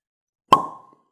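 Zork synthetic cork popping out of a mead bottle, a single sharp, close pop with a short hollow ringing decay, alone in silence.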